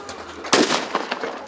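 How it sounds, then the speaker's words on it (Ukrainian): A cannon shot opens a village festival in Zakarpattia, a single sharp outdoor blast with a rolling tail that decays over about a second. "Розпочалося цьогорічне велятинське свято пострілами з гармати"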